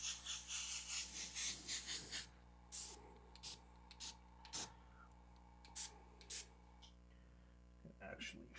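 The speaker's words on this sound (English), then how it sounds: "I want to use a texture effects kind of everywhere" An airbrush sprays paint in several short hissing bursts for a gritty texture effect on an eagle artwork, close and fairly loud, with a longer spray at the start and brief puffs with pauses after.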